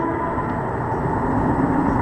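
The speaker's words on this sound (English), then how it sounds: "You can watch the train go by." A train rolls steadily past at close range, its broad continuous rumble and rail noise holding level for the whole stretch, with no voices over it.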